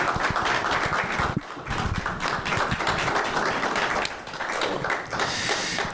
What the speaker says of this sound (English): Please give a round of applause for our friend and our brother, Marcus Jackson